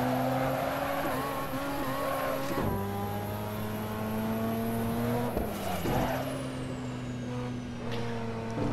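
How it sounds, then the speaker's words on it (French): A turbocharged race car engine in the video game Assetto Corsa revs and drones loudly, its pitch climbing and dropping sharply with gear shifts, a high turbo whine running steadily above it. "Même au niveau du bruit de son turbo, franchement, il est fort agréable."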